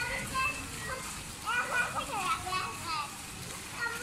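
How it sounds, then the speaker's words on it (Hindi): Children playing noisily in a flooded street during heavy rain: lively shouts and squeals rising and falling over a steady wash of rain and splashing water, with an adult speaking nearby. "ये हमारे बच्चे उधम मचा रहे हैं गली में।"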